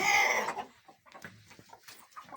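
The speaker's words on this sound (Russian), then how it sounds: "Петя, петушок." A rooster on a village farm lets out a loud crow at the start, followed by softer scattered clucks and rustling close by.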